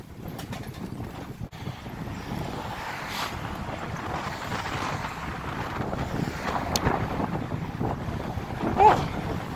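Wind blowing hard on a blustery day, a steady rushing roar buffeting the microphone and swelling in gusts, with no talking.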